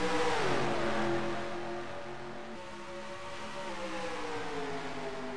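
NASCAR stock cars roar past side by side down the backstretch at Homestead in NASCAR Racing 2003, a loud engine drone that sweeps down in pitch as they pass, then settles into a steadier hum.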